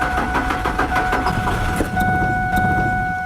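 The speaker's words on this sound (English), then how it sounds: "So we'll crank our engine one more time, making sure to open the throttle plate." A car engine cranks after starting fluid is sprayed into the intake with the throttle plate held open, giving a rapid, loud, rhythmic churning that slows and stalls without catching, while a steady electrical whine runs underneath.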